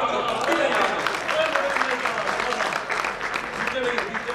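Audience applause at a poetry recital rolls on steadily, many hands clapping at once in a dense, continuous patter, with some crowd noise mixed in.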